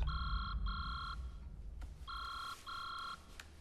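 A mobile phone ringing in a French TV episode: repeated electronic two-tone ring bursts in short pairs, clear and moderately close over quiet background.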